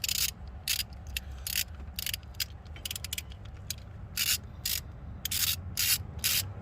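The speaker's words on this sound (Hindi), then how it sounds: "अभी इनटेक का बोल्ट खोलेंगे। 12 मिलीमीटर बोल्ट है," A wrench ratchets and scrapes as 12 mm intake bolts are loosened on a Toyota Land Cruiser V8, giving repeated short bursts of metallic clicking and rubbing over a low background rumble, close by and with no talking.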